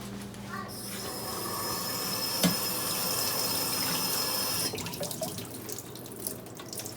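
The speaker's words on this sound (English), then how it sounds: "Pull out our strainer. Get our spinach rinsed off." Spinach is rinsed in a strainer under a running kitchen faucet: a steady, close rush of water that starts abruptly and cuts off near the end, followed by faint drips and handling sounds.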